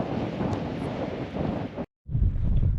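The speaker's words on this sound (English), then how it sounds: "the wind, and you can see it's blowing like crazy" Strong gusts in the Nevada desert at the Rhyolite ghost town buffet the microphones with loud, rumbling wind noise that drops out briefly and then roars back, with no voices.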